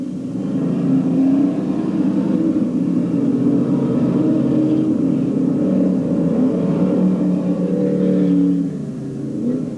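Race cars roaring around a half-mile dirt track, a steady loud engine drone with a dense low rumble that swells slightly as cars pass, continuous throughout with no voices.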